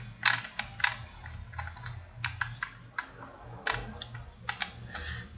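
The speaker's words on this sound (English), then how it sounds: "let us code the program quickly" Program code is typed on a computer keyboard: irregular bursts of crisp key clicks, some louder strikes among lighter taps, close up over a low steady hum.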